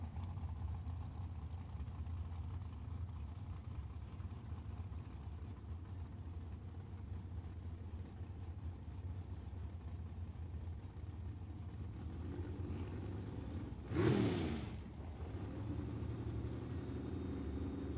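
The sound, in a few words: drag racing cars, 65 Chevelle, rolling in and revving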